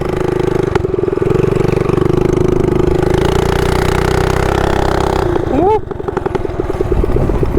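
A stage 1 mini bike engine with a stock carburetor runs loudly and steadily close by, then revs up sharply near the end before settling back to a choppy idle; a voice gives a brief exclamation.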